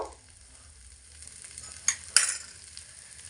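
Diced potatoes for jeera aloo frying in a pan over low heat, giving a faint, steady sizzle with soft stirring scrapes and two brief sharper clinks near the end.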